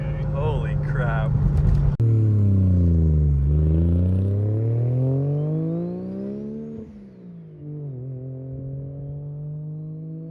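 A 2003 Lexus IS300 with a 2JZ engine swap accelerates hard with its tires spinning, the engine roaring loud and close as it climbs through the revs, drops on a shift and pulls again, with a brief voice at the start.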